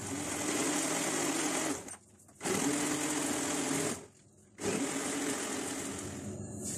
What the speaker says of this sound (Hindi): क्रश्ड आइस डालेंगे इसमें। अब इसको ब्लेंड कर लेते हैं।